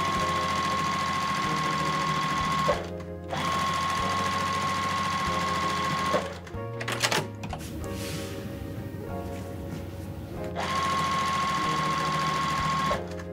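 A sewing machine sews quilt blocks in three long, steady runs separated by brief pauses filled with clicks and handling noise, close and even in volume.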